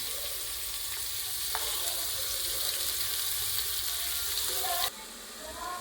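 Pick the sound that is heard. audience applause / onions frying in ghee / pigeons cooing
onions frying in ghee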